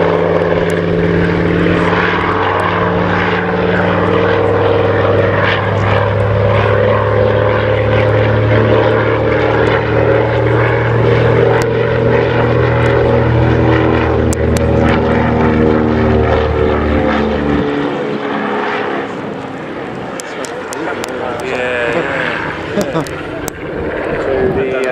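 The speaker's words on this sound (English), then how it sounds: "consolidated PBY-58 Catalina gets into the air." A Consolidated PBY-5A Catalina flying boat takes off at Scampton Airshow with loud, throbbing twin piston-engine and propeller roar, strong harmonic drone for most of the clip before dropping off, while a commentator talks over it.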